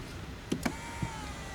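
Seat cushion extender motor on a 2016–2017 Mercedes-Benz GLC 300 SUV: a faint electric whine running under a few soft mechanical clicks and thumps inside the cabin, no speech.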